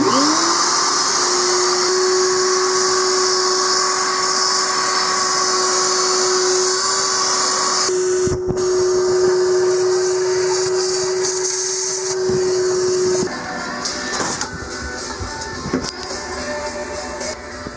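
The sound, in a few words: shop vac vacuum running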